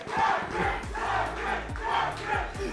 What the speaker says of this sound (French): j'essaie de comprendre ce qui se crie présentement dans la foule